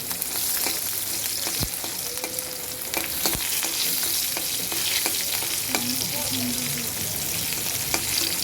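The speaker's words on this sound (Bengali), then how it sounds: "সাথে রসুনের কোয়াগুলো ভেজে নিচ্ছে" Garlic cloves frying on a tawa over low heat, a steady crackling sizzle with scattered sharp pops and occasional utensil scrapes, close and continuous without speech.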